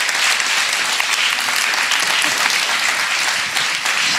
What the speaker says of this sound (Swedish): En stor applåd för Arne